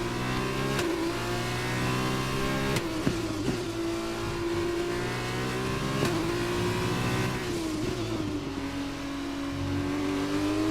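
An F2 race car in the F1 game Braking Point accelerating hard, its engine whining steadily through upshifts with brief gear-change dips, loud and continuous, with no talking over it.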